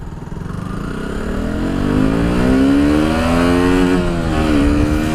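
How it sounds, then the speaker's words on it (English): A KTM Duke 125 motorcycle engine revs up steadily from idle, its pitch rising smoothly over several seconds, loud and close. "I'm going to start accelerating and hear the difference in engine notes as it progresses."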